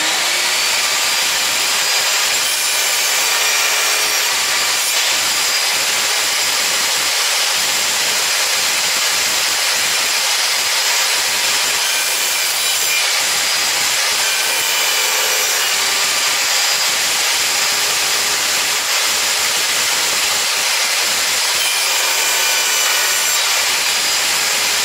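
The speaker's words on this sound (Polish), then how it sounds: "No i teraz przejdźmy do cięcia pod kątem." A VEVOR 1800W table saw making an angled cut through wood, a loud continuous whining roar of the blade biting steadily for the whole stretch without pause.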